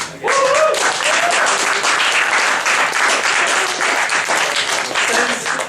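An audience gives a long, dense round of applause for poetry slam performers at a spoken-word event, with steady, close clapping throughout and a voice briefly heard at the start.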